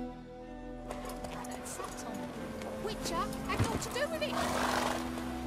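A horse whinnies as its rider dismounts in The Witcher 3, the neigh rising midway over soft game ambience and faint hoof movement, with someone talking quietly throughout.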